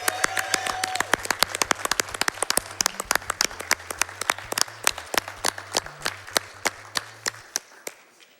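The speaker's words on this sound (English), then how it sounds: "Let's give one more round of applause for Eriphram, everyone." A round of applause from a crowd at a speedrunning marathon event, steady clapping that thins out toward the end with a few scattered claps.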